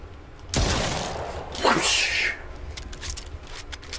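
Gunfire in the VR shooter Brookhaven Experiment, with a sharp loud shot burst followed by a second crackling blast and fainter distant pops, no talk.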